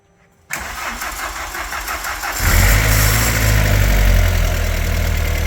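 A Volkswagen Golf 2 20VT turbo engine cranks and catches, then settles into a steady, loud running idle close by, with no voices.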